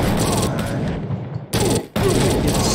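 AI soldiers firing in a GameGuru first-person shooter, dense rapid bursts of loud gunfire that break off twice in short gaps before resuming.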